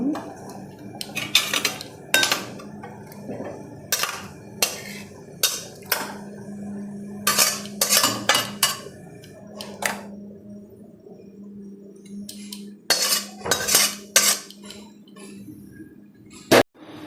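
Metal pot and utensils clank and scrape repeatedly as a pot of bathua-leaf dal is taken off the stove in a village kitchen, sharp irregular knocks close by over a low background hum.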